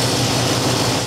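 Van Diemen RF 85 race car engine fitted with a Weber DGAV carburetor, idling smoothly with a steady, loud low rumble throughout the brief moment.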